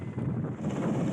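Strong wind gusting across a peatland fire site in Ogan Ilir near a toll road, a steady broadband rush with rumbling microphone buffeting throughout, loud and continuous with no speech.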